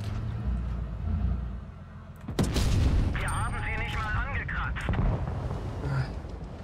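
Gunfire and shell blasts in a tank video game, several sharp booming shots with rumbling tails, one big hit standing out midway, while a player talks over the action.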